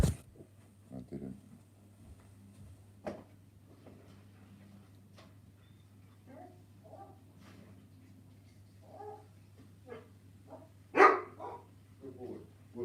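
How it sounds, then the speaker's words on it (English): A dog barks in short, scattered bursts while being trained to bark on command indoors, with a steady low hum throughout and people talking quietly between the barks. "She's teaching him to woof on command."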